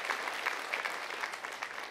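A congregation applauds at the close of a church sermon, a brief burst of dense, steady clapping from many hands, moderately near, with no talking over it.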